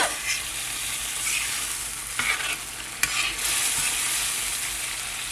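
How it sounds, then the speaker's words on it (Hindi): Leftover meat broth hitting a hot tawa of frying beef, a loud dense hiss and sizzle that swells and flares briefly, with a few sharp clinks, near and continuous with no talk. "जो हमने गोश्त खिलाया था उसमें से थोड़ा सूप बचा है वो डाल देंगे हम"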